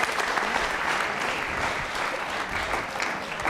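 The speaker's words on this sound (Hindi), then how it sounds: "जोरदार तरीके से तालियां बजाइए इशिका के लिए" An audience of schoolchildren and guests at a Lord Mahaveer quiz show at Mahaveer Digambar Jain School gives a quiz contestant a round of applause, steady, loud and dense throughout.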